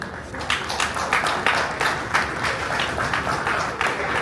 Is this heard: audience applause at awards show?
yes